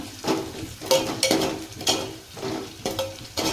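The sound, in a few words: onions frying in a pan for idli upma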